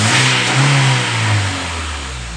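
Honda Jazz VTEC car engine revving loudly and close, a steady high-rpm roar with rising and falling pitch that eases slightly toward the end, no voices.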